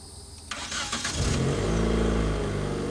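A Nissan car engine cranks briefly and catches, then settles into a steady, fairly loud running idle close by, with no voices.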